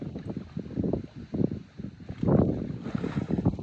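Strong wind buffeting the microphone outdoors, loud irregular low rumbling gusts that swell and fade over a few seconds.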